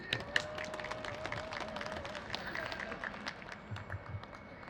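Scattered clapping from a modest audience welcoming a speaker from a Yeongsan River restoration network, fairly quiet and uneven, with distinct individual claps and some sharper taps standing out against a low murmur.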